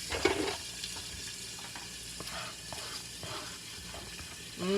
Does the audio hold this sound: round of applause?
no